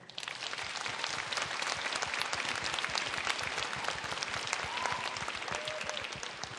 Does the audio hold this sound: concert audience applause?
yes